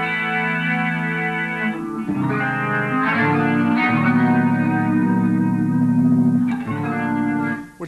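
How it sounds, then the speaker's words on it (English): An electric guitar played through a chorus pedal, sustained chords and notes with a shimmering, doubled twelve-string-like wash and reverb, loud and alone with no talk. "This is a chorus."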